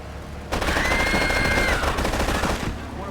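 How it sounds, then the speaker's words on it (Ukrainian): A burst of rapid Kalashnikov rifle fire in Grand Theft Auto III – The Definitive Edition rattles for about two seconds, loud and close, with game-like mechanical tones layered over it. "Тут з калаша ми постріляємо."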